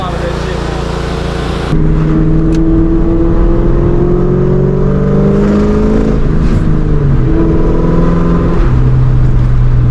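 A 2004 Mustang GT fitted with a JLT cold air intake, its engine loud and close, droning steadily and then climbing in pitch as it accelerates, with shifting tones as the revs rise and fall.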